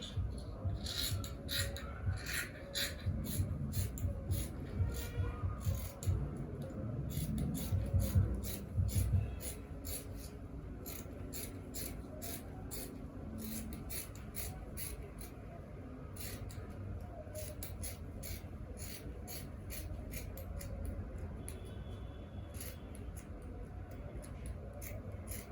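Scissors trim the side of a fabric palazzo trouser piece, a steady rough rubbing and rasping with quick crisp snips throughout, close and fairly quiet, heavier and busier in the first few seconds.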